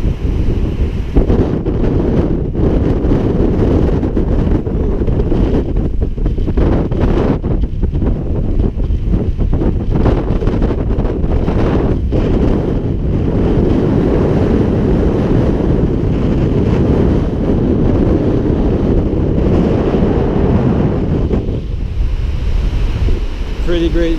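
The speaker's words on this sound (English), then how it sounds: "It's pretty windy up here." Strong wind roaring and buffeting the microphone nonstop on a hilltop blowhole deck at Namale, Fiji, a heavy rumbling gusty noise filling the whole stretch.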